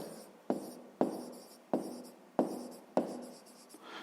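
Pen writing on paper during a fifth-grade maths exercise, close and soft, with a series of quick scratchy strokes and several sharp taps marking new words.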